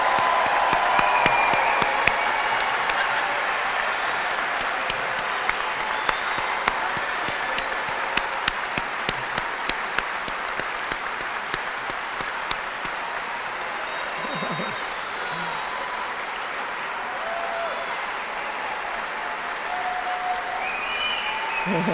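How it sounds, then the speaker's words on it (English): Large hall of family and friends at a spring commencement ceremony giving sustained, steady applause for graduates, a broad wash of clapping lasting over twenty seconds with faint cheers scattered throughout. "hear the applause from your family and friends"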